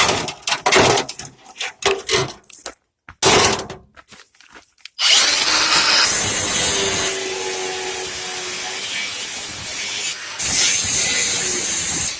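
Cordless angle grinder cutting a peanut jar for a birdfeeder: after irregular bursts of handling and short cuts, the grinder runs in a loud sustained high-pitched whine that dips slightly, then rises again near the end.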